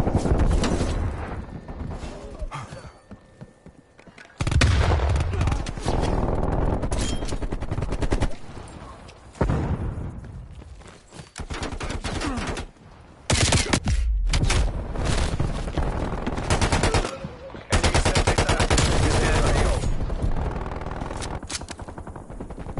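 Heavy gunfire with rapid machine-gun bursts and volleys of shots, loud and dense, breaking off into short gaps and starting again over more than twenty seconds.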